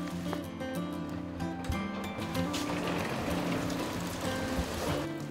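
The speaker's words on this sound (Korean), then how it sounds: "다음 날 겨우내 가물었던 응봉산에 비손님이 찾아왔습니다." Rain falls on a mountain, a dense, steady wash of patter and hiss with scattered nearer drops, loud and continuous throughout with no speech.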